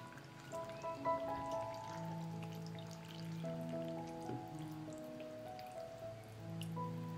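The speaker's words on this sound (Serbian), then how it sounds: "Pasulj ću zaliti sa vodom u kojoj se kuvao." Bean cooking water poured over cooked beans in an oven-safe bowl, a quiet continuous trickling and dripping over a steady low background hum.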